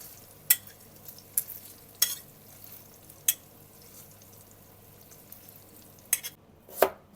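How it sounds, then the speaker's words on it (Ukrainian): Steady low sizzle of vegetables and sausage frying in a pan, broken by a handful of sharp clinks and scrapes as they are stirred. "Далі будемо овочі підсмажувати."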